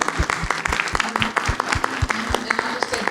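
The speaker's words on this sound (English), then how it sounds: "A round of applause." A crowd applauds steadily, many hands clapping in a dense, continuous patter that holds for a few seconds.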